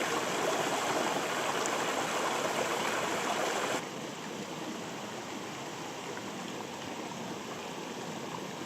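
The Kilkeel River in the Mourne Mountains rushes steadily over rocks nearby, a broad continuous wash of flowing water that drops slightly in level partway through, with no voices.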